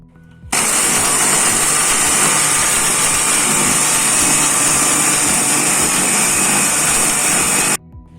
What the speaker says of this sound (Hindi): अब हमने इसको ग्राइंड कर लेना है